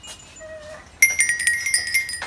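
Small lotus-shaped bells ringing in turn with different pitches: a couple of soft single tones, then a bright cluster of quick repeated chimes with ringing overtones, close and clear.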